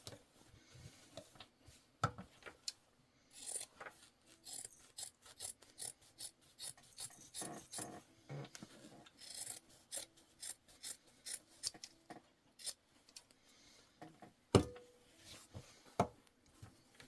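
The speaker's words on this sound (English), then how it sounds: "I'm just going to trim in there. And then same thing here." Scissors trim fabric on a sewing project for a refillable catnip mat, producing quiet, close, irregular snips and rasping cuts with brief pauses between them.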